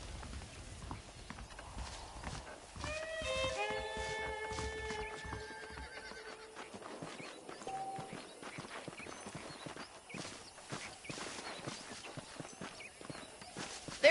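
Horse hooves clip-clop at a walking pace in the Red Dead Redemption video game, with a whinny early on, the steady close hoofbeats continuing throughout at low volume.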